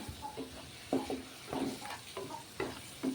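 A tomato okra masala curry is stirred in a pan, giving a few soft, irregular scraping strokes over a faint simmering sizzle, close and moderately quiet.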